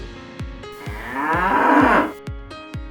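A bull lets out a long, loud moo, close and rising then fading, set between evenly spaced sharp knocks in an animated Telugu story.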